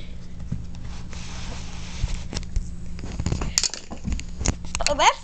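Horse hooves clip-clop on a farm during training, an uneven series of close knocks and thuds that grow busier toward the end, with speech heard in the background.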